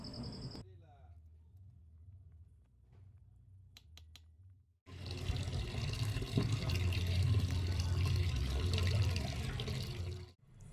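Cooked white rice being drained of its water at a wood-fired village stove, a loud, steady rush and splash of pouring water lasting about six seconds after quieter clinks and handling sounds, close up.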